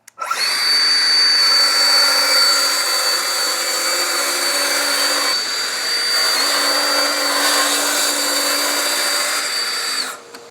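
A power tool whines loudly and steadily while making a 15-degree back bevel cut along a cabinet edge during scribing, with a brief dip midway before the high-pitched cutting resumes and stops.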